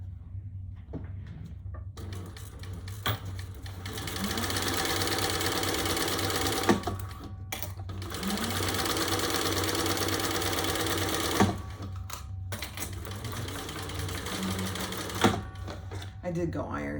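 A home sewing machine bastes a zipper into a bag's zipper panel, stitching in long steady runs that stop briefly between passes, close and fairly loud.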